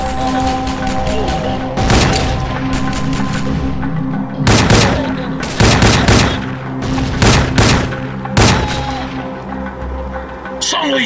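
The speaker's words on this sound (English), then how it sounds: "Use the flak cannons to shoot them down." Flak cannons fire in Rogue Trooper Redux, a shooter video game, as several loud, close bursts of booming gunfire stand out over constant battle noise.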